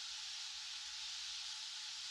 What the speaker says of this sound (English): We're gonna need a lot more atomizing steam